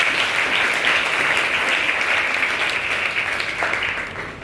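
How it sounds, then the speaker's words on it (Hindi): An audience claps for cadets at an Indian Air Force Day event, a steady, dense burst of applause that holds at full strength for several seconds with no talking over it, tapering only slightly toward the end. "तो इन बच्चों ने जो प्रयास किया उनके प्रयास के लिए तालियां बजाइएगा।"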